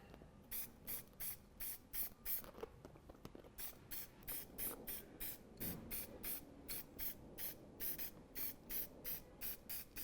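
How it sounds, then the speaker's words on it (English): A spray paint can hisses in rapid, evenly spaced short bursts, close and steady, with a faint clatter of handling between the sprays. "So I'm not constantly spraying, if you can obviously hear it."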